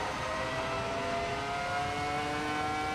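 A high-pitched F1 V10 racing engine in a racing video game, fitted to a GT3 car, screams at sustained high revs, a steady whining roar with no talking.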